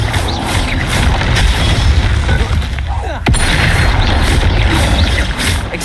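A Confringo fire-blast spell in Hogwarts Legacy lands with a booming burst over a busy mechanical, crunching game soundscape. A sharp crack sounds midway, and the scene stays loud throughout.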